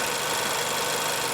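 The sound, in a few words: Nissan Grand Livina car engine running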